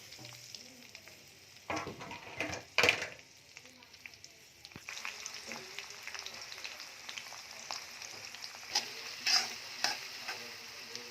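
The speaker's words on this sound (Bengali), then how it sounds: "পেঁয়াজের ঝালটা ভাজা ভাজা হয়ে গেছে" Onions and green chilies fry in a pan for a bhetki fish curry with potatoes, giving a steady close sizzle broken by a few louder scraping stirs of the spoon.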